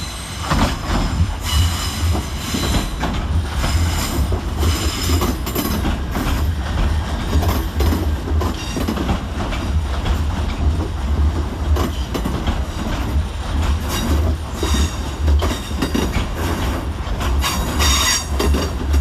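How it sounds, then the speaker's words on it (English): A c2c Class 357 electric train pulls into the London Fenchurch Street terminus, its wheels clacking over rail joints and squealing as it slows. The rumble stays close and loud throughout, with no voices. "Arriving to terminate with a C2C service off of Southend Central is 357012 and"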